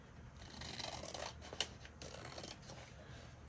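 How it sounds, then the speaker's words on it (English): Scissors snip away excess paper from a junk mail window envelope, a close, steady run of rasping cuts with one sharper snap near the middle, no voices. "so now let's cut off any excess, because we don't want it sticking out. I'm just going along and cutting it."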